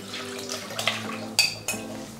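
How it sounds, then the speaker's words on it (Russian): Milk is drained off soaked chicken livers and they are rinsed under running water, with clinks of a dish and cutlery over the flow. "сливаем молоко и хорошенько промываем"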